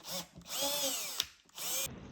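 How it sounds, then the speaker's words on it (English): Power drill boring holes through wooden boards raised on an upturned miter box, with spare wood pieces underneath; two sustained whining bursts of drilling with a brief pause between, close and loud. "To drill safely without a workbench, I'm elevating the boards on an upside down miter box so I don't accidentally drill into my table."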